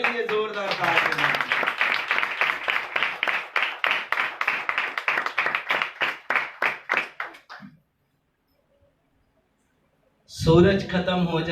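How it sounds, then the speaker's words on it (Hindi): A church congregation claps loudly for Jesus in fast, steady applause with rhythmic bursts that thin out and stop, followed by a pause and then a voice over the room. "यीशु के लिए जोरदार ताली बजाएं।"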